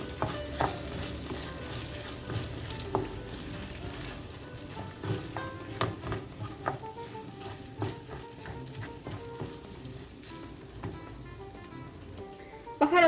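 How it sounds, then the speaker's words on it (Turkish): Uncooked rice is stirred into a pot of minced-meat filling with close, repeated scraping and rustling and a soft sizzle underneath, and a sharp clink lands near the end. "Pirincimizi de ekledikten sonra şöyle bir karıştırıp baharatlarımızı ekleyelim."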